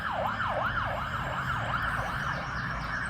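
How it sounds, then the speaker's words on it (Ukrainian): An ambulance siren passes, its rising and falling wail repeating in steady sweeps over low traffic rumble, loud and continuous throughout with no one speaking. "Поїхала скора помощ."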